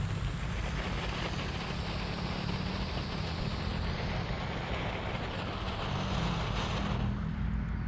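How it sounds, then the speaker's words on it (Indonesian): A small fountain firework sprays steadily after being lit, a continuous hissing, crackling rush held at an even, fairly loud level throughout, with wind noise outdoors. "Air mancur yang paling kecil yang kita nyalakan sore ini."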